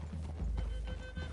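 In a video game, a horse neighs and hooves clip-clop over a steady low rumble of ambient game sound, brief and fairly close.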